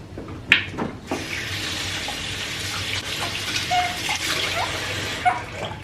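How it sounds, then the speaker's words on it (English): Tap water runs steadily into a kitchen sink as hands are washed, a continuous hissing flow with a few small clunks and splashes near the start, close and moderately loud with no talking. "So I'm going to wash my hands and get started."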